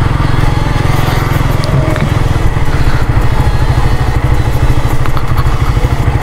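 Close, loud idle of a Suzuki GSX-R150 motorcycle at an open practice ground, a steady rapid low-pitched throb with faint clattering knocks mixed in, no talking.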